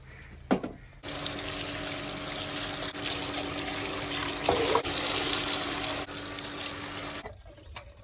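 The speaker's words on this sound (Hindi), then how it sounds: "तो अभी सबसे पहले हम लोग ने फिश ली है, फिश को हम लोग वॉश कर लेंगे।" Running tap water pours steadily as fish is washed under it, a close and continuous splashing trickle that starts after a brief clatter and stops near the end.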